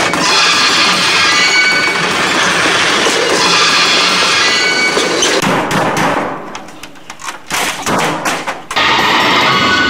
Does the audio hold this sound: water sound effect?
no